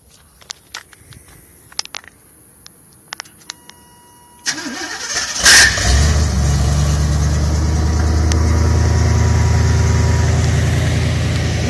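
A 1991 Chevrolet 454 SS big-block with its original exhaust, an X-crossed pipe and a large Flowmaster. It starts after a few seconds of quiet clicks and rustling, catches loudly with a sharp roar, then settles into a close, deep, rumbling idle.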